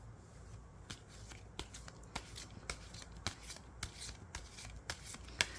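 Tarot cards are shuffled up close in a steady series of crisp riffles and slaps over a soft background hiss.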